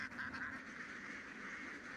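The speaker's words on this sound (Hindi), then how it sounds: "अपीवात के पास बतखों के ऐसे 4 झुंड हैं, जो इस प्रांत के अलग अलग खेतों में घूमते रहते हैं।" A flock of ducks in rice paddies keeps up a dense, continuous chorus of nasal quacking that is faint and steady, with no individual calls standing out.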